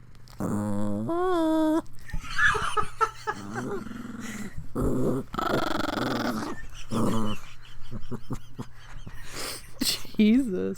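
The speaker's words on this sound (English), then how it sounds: "She starts growling because she wants to fight." A dog growls and whimpers in short bursts, close and fairly loud, interspersed with a yawn-like vocal sound, while people talk and laugh around it.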